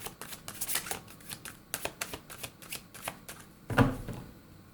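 Tarot cards shuffled and drawn by hand, a steady run of soft riffling flicks and slaps, close and fairly quiet, ending in one firmer snap as a card is laid down; no voices.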